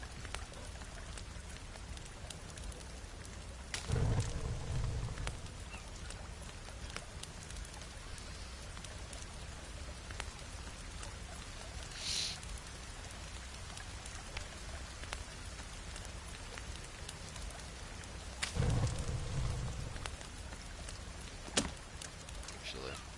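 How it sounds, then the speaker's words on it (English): Steady rain falls in the survival video game The Forest, a soft continuous patter on surfaces near a campfire, with brief louder thumps and occasional speech over it. "Keep this fire going while it rains."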